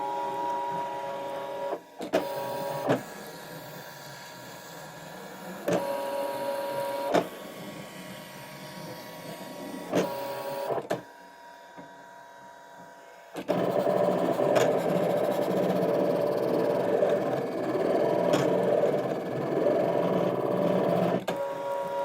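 A digital cutting machine works through thick sticky-backed card, whirring and buzzing in bursts separated by sharp clicks and carriage moves, with a brief quiet pause midway before a louder, steadier run; the machine is close and heard alone.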